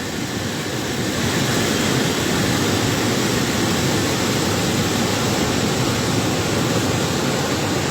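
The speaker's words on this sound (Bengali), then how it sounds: "প্রচুর পরিমাণ বৃষ্টি হইতেছে।" Heavy rain pours down over a swollen, fast-flowing river in flood at the Muhuri project, a dense, steady roar of rushing water and rainfall filling the whole scene without a break.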